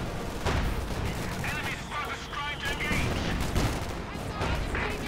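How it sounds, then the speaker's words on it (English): An anti-tank gun firing in the real-time strategy game Company of Heroes 2, with sharp gunfire blasts and explosions over a dense battle din of shots and rumbles, loud and continuous. "Anti-tank gun firing."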